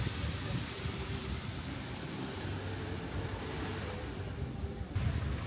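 Gentle ocean surf at Kaiona Beach Park on Oahu, Hawaii, a continuous broad wash of breaking water with some wind rumble, steady and unbroken, with no one speaking.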